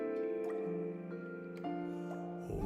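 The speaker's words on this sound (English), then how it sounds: "Drips fall with a hurried cadence." Liquid drips fall quickly in a puzzle game, soft tapping onsets over sustained, layered musical tones that hum quietly throughout.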